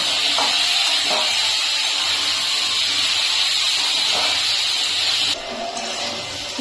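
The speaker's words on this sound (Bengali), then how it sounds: "এখন কুমড়োটাকে একটু ভেজে নেব" Pumpkin pieces fry in a pan of hot oil with a steady, dense sizzling hiss that runs unbroken and fairly loud up close, with a few faint knocks underneath and a slight drop near the end.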